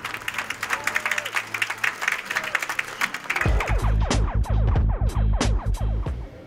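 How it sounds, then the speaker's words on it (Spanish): Applause for the film La Civil at the Cannes Film Festival, dense clapping under a brief voice at first, then swelling into loud, sustained, close ovation with sharp individual claps. "no podemos despedirnos de La Civil sin compartirles los aplausos que recibió"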